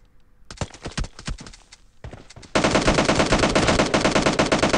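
Gunfire in the mobile battle royale game PUBG Mobile: a few sharp single shots, then a sustained loud burst of rapid automatic fire that runs to the end.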